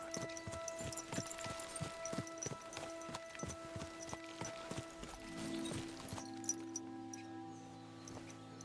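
Horse hooves clip-clop at a steady riding rhythm in Kingdom Come Deliverance 2, close and distinct over sustained music, slowing and stopping near the end as the music carries on.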